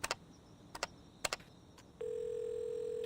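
A telephone gives short clicks and beeps, as of buttons being pressed, then a steady electronic tone sounds continuously, faint and close.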